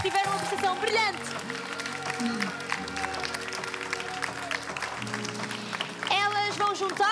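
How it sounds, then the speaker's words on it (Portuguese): Applause for Miss Teen Portugal and Mrs Portugal 2020 finalists at a televised pageant final gala rolls steadily under loud music and singing, with a presenter's voice over it. "Peço aí em casa e a todos os presentes uma grande salva de palmas para todas as finalistas"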